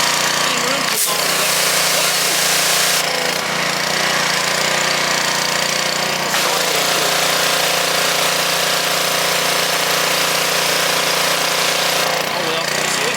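A power washer running to strip powder coating, its motor and spray roaring in a loud steady hiss with brief changes in intensity, close by; a voice talks over it.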